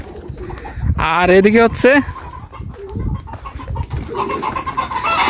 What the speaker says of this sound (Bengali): কবুতর, ঘুঘু পাখিও আছে।